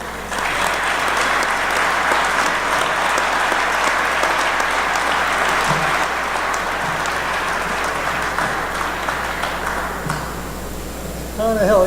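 Loud, sustained audience applause fills a hall for a Placer High Athletic Hall of Fame inductee, a dense steady clapping that continues for over ten seconds before tapering slightly.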